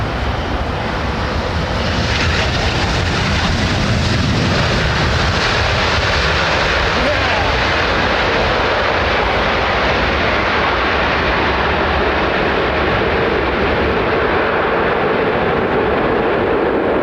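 Airbus A380 jet at London Heathrow, a loud, continuous broadband engine roar that swells after the first few seconds and holds steady throughout, no talk.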